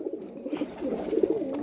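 A yellow-eyed pigeon coos close by, a soft low throaty rolling call repeating in quick pulses with no talk over it.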